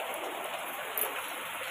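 Heavy rain pouring down steadily in darkness, a dense, even hiss of falling water that stays constant throughout with no voices.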